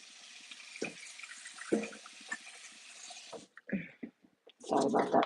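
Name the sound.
tap water running to rinse fudge off a whisk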